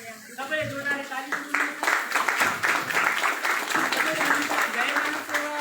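A crowd claps together at a charity event in an ashram in Pokhara, with steady, dense applause building and holding under voices talking.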